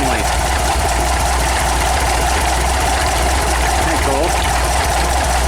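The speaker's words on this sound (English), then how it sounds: "It's a little rougher idle." A VW 1800 engine idles roughly with a loud, steady low drone and uneven knocking pulses. A voice talks over it.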